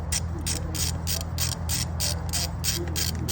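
Rapid metallic ratchet clicking from a socket wrench loosening a 15 mm idler pulley bolt on a 2004 Chevrolet Suburban engine during a water pump replacement, a steady close-up burst over a low mechanical hum.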